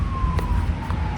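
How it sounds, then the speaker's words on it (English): An emergency siren passing outside, a faint steady wailing tone in the background of an indoor room, with brief clicks and no talking. "there's a siren in the background"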